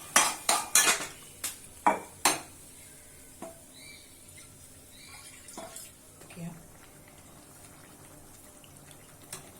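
A spoon clanks sharply against a pan while green peas masala is stirred, with a quick burst of metallic knocks at the start, then scattered softer scrapes and taps.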